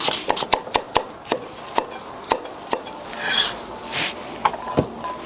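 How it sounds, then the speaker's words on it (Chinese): Knife chopping vegetables into small dice on a board for braised lamb intestines, a quick run of sharp, close taps followed by a softer scraping patch and a few more chops, alone without talk. "切成丁丁儿"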